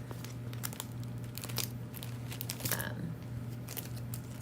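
Scissors cutting out a stamped paper sentiment for a slimline card, soft close crinkly snips and paper rustles over a steady low electrical hum, fairly quiet and irregular.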